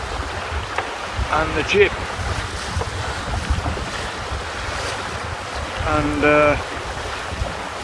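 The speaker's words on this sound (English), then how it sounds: "Wind's got up." Wind and waves aboard a sailing boat under a fully reefed main, with steady rushing water and gusty wind buffeting the microphone, brief creaks or squeaks from the boat, and a voice speaking briefly.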